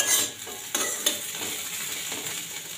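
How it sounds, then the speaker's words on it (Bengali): Thin-cut potatoes frying with dried red chili in hot oil, giving a continuous bright sizzle at moderate level with a couple of sharp utensil knocks, no talking. "আলু ভাজছি, শুকনো লঙ্কা ফোড়ন দিয়ে সরু সরু করে আলুটা বানিয়েছি।"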